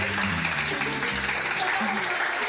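Applause marks a patient's recovery after leaving intensive care, a steady patter of clapping heard under a voice talking over it.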